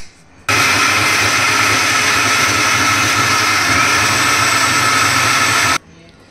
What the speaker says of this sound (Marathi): तर हे आपल्याला मिक्सर मध्ये आपल्याला ग्राइंड करायचं आहे।